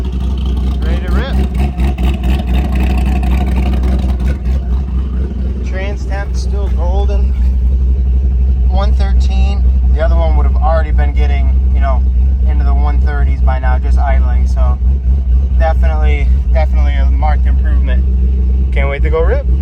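A C6 Corvette engine runs steadily with a loud, low, continuous drone on a test drive, and a person talks over it throughout.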